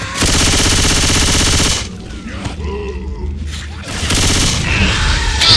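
Rapid automatic gunfire in the zombie shooter game Left 4 Dead 2, loud dense bursts at the start and end with a brief lull between, with shouted voices and grunts mixed in.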